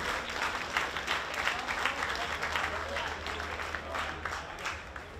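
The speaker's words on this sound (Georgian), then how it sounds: "მე მგონი ესეც აპლოდისმენტების ღირსია" An audience at a Georgian combat-sport event applauds, a dense, steady wash of clapping that continues evenly at moderate volume throughout.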